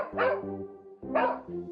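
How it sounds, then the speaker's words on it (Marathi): Two loud, close dog barks, each a sharp yelp trailing into a short tonal whine, with a pause between them, used as a sound effect in a spoken story. "तितक्यात तिला एका कुत्र्याच्या भुंकण्याचा आवाज आला"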